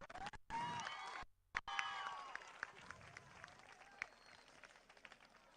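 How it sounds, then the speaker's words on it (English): A school celebration crowd claps and cheers for the choreographers, with a brisk round of applause mixed with shouts and some voices, briefly cut off and then continuing at a lower level. "Round of applause for them too."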